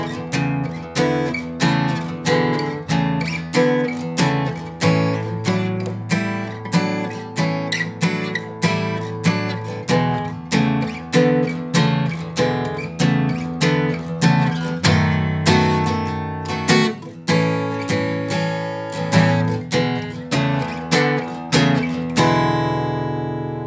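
An easy blues progression played on guitar, with steady strummed chords moving through the changes for about twenty seconds, loud and close, alone with no talking.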